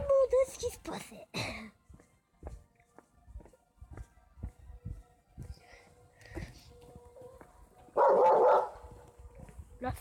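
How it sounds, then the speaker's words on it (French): A dog close by gives short yips and barks between bursts of talk, with one louder, sustained bark-like burst near the end; voices are heard throughout. "Je parle au chien qui est juste à côté. Écoutez ça."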